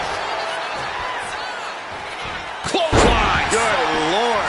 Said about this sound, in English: Gets slammed down.